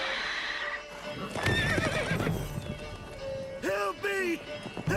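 Roach the horse in the video game Witcher 3 whinnies loudly twice near the end, with clip-clop hooves and game sounds throughout, while a voice speaks over the start.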